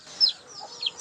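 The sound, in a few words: chickens clucking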